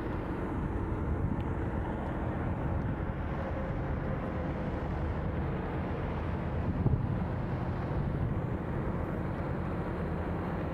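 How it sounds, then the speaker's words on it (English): Generator on a 2021 Newmar Essex 4543 motorhome, a steady low droning rumble running continuously at an even level, with faint wind-like noise and no talk. "I've got the generator running"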